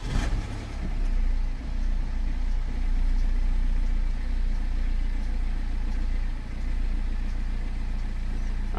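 A BMW E60 520d diesel in limp mode turns over with a sharp start, then settles into a steady, loud low idle that holds with slight swells.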